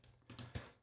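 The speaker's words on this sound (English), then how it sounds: "So I'm going to type that in" A few quick, close keystrokes tap on a computer keyboard in a short, uneven burst, alone without talk.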